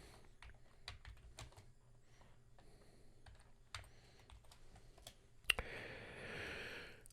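Close, quiet typing on a computer keyboard while entering a timeline name in DaVinci Resolve 17.4.3: a run of light, uneven key clicks, then a sharper tap followed by a brief soft rush of noise.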